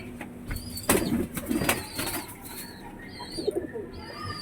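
A slate-coloured pigeon being held gives short bursts of wing flapping, close and fairly soft, with some faint bird calls in the background.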